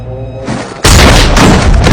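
A gunshot in a Western-style film lands as one sudden heavy boom after quieter background sound, loud and close, with a dense, sustained rumbling tail.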